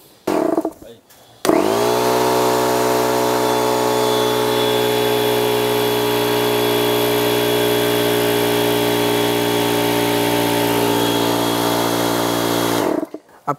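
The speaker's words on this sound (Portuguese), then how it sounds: "Esse aqui é o compressor THAC190/6OFF." Einhell THAC190/6OFF air compressor switching on with a thump and running in a loud, steady motor drone with a strong hum, then cutting off near the end.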